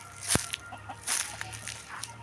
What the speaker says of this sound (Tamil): நிறைய கோழி அலையுது